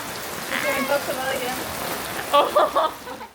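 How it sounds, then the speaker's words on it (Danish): Heavy rain from a storm in Brazil patters steadily on surfaces nearby, a soft continuous wash with a few louder splashes toward the end, while a voice talks faintly over it. "Det regner sindssygt."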